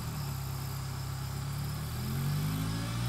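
Remote controlled 8x8 Mudd-Ox amphibious vehicle engine starting and settling into a steady low idle hum, with a slight rise in pitch and loudness toward the end, close by and without talk.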